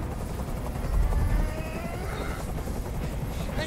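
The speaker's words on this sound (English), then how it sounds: "I can't stand that noise anymore. Tell that helicopter to get out of here." A helicopter in the video game Detroit: Become Human makes a constant thudding rotor drone that swells slightly, with faint game sounds layered over it.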